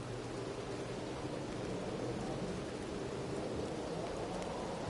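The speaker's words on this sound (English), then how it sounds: "Oh, some fucking rainy day." Steady rain in the video game Red Dead Redemption hisses and patters evenly throughout, a soft continuous wash of drops with a faint low rumble underneath.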